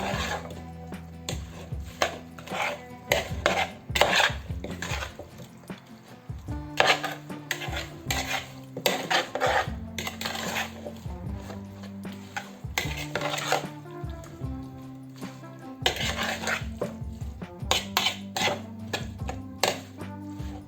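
Cucumber kimchi being mixed in a bowl, with steady clinking, scraping and knocking of utensils against the bowl, close and continuous, with a faint music bed underneath.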